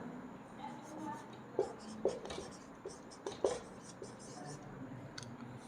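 Chalk or marker writing on a board in an English lesson, with soft scratchy strokes and a few sharper taps in a quiet room, faint and intermittent over low background noise.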